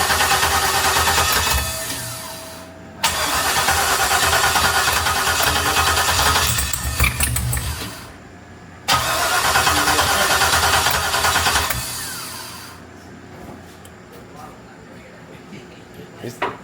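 LS-swapped G-body Oldsmobile Cutlass engine cranking and catching, then running with a loud rough idle and revving in bursts, with a pause between runs and people talking nearby.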